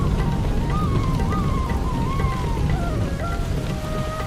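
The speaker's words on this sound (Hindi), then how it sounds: "एक रात तेज आंधी और बारिश आती है।" A strong nighttime storm of wind and rain roars steadily and loudly throughout, with a wavering whistling tone gliding over the dense wash.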